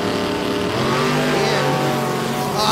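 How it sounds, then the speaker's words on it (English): A drag race car at a motorplex event screams at launch as its tires spin hard, a loud sustained engine roar with rising harmonics and a harsh high hiss growing louder toward the end. "Oh, Pena spinning the tires hard."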